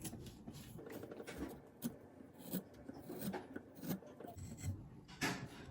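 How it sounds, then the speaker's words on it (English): A chisel carves poplar wood by hand in repeated scraping, rasping strokes, each a short gritty burst in an uneven rhythm, close and fairly quiet with no talking. "I'm gonna carve these out with the chisel"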